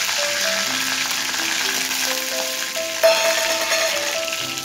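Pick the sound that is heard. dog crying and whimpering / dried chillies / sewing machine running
dried chillies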